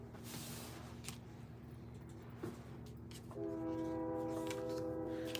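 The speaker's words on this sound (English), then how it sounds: "You hear that train?" A passing train sounds its horn, which starts partway through as a steady, sustained blast over a low, constant background rumble.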